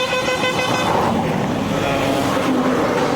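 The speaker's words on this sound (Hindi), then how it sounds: "ये ट्रैफिक, ये शोर हमारे कनेक्शन को रोक रहा है बार बार" Busy Indian road traffic along a Narmada parikrama route near Barwani, with engines and a car horn tooting in a dense, close, continuous wash of noise.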